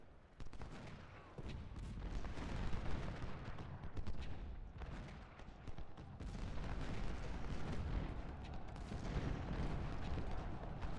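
Dense, continuous crackle of massed rifle fire from Civil War infantry at the Battle of Gaines' Mill in Ultimate General: Civil War, overlapping volleys and booms rolling without pause at moderate distance, no talk.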